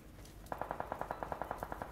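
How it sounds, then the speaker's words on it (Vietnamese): Rapid automatic gunfire in the PUBG Mobile battle royale game, a steady burst of about fourteen evenly spaced shots at mid distance with no talk. "Mình sẽ lại mình canh cái tiếng súng ở bên này."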